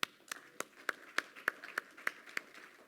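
Sparse, evenly spaced claps ring out in a large hall at a public forum on Metro Vancouver's economic future, about ten distinct hand claps at a steady rhythm with little else around them.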